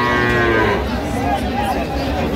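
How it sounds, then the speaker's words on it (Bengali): A cow at a weekly cattle market in Ambari, where Sahiwal cows with calves are sold, gives a loud, close, drawn-out moo that fills the whole moment, with low market rumble beneath. "আর আমরা দেখছিলাম এখানে একটি গাভী বাচ্চা দেখছেন বেলাল ভাই।"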